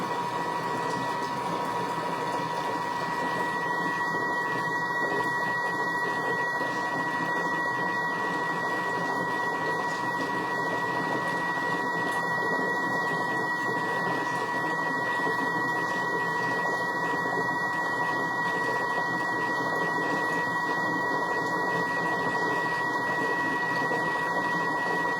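Thermomix kitchen machine mixing and kneading crepe batter, a steady continuous motor whir with tonal hum and intermittent rattling bursts, running close and alone without talk.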